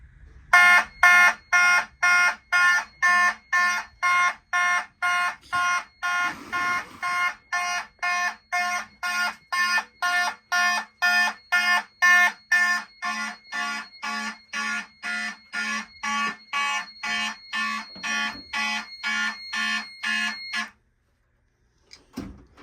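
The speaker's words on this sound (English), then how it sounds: "let's activate another smoke detector" A 1980s smoke detector alarm blares in a steady train of loud, rapid pulsing beeps for about twenty seconds, then cuts off abruptly.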